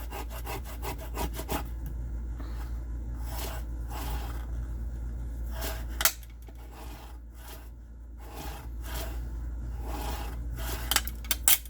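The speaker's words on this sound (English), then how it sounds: "I'm going to do a lot of burnishing" Glued paper being burnished flat for a Christmas candy gift box. Close, repeated rubbing strokes come in rhythmic bursts over a quiet background, with no talking.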